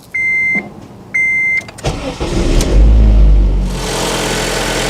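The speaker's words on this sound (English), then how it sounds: "So let's go start up the car." Two beeps, then a Honda Civic engine cranks and catches, revving loudly before settling into a steady idle, just after a thermostat replacement.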